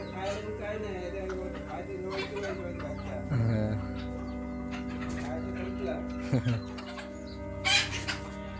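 Chickens in a Konkan village during the rainy season cluck and call in scattered short bursts close by, with people talking over them throughout.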